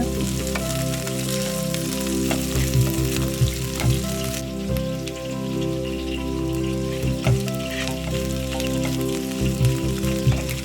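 Curry leaves hit hot oil in a pan and fry with a steady, crackling sizzle, with spiky pops throughout, close and fairly loud, with no talking.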